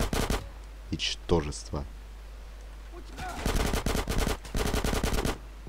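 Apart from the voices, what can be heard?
gunshots in GTA San Andreas video game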